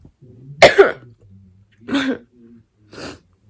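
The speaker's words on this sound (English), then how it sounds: "I've just been fucking coughing." Three separate coughs, the first loudest and harshest, the next two softer and spaced about a second apart, with breathing between them.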